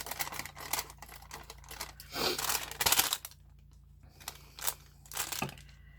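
Close paper cutting as a window flap outline is trimmed, with crisp snips, rustles and crinkles in irregular bursts and short pauses between them.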